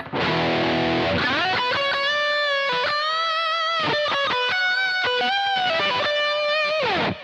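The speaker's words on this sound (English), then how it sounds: "let's go to the high gain distortion lead sound" A BOSS GT-1 set to a high gain distortion lead tone plays a sustained, singing electric guitar line with bends and held notes, loud and saturated, with no talking over it.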